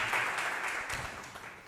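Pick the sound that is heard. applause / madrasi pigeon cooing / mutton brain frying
applause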